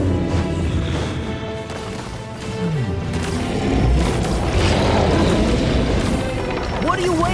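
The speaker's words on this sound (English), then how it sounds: "Throw the bomb right into its mouth!" A bomb thrown into a monster's mouth blows up in the Simulanka video game, a heavy crashing boom among game sound effects, with an excited voice speaking over it.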